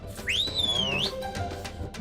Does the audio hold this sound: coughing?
no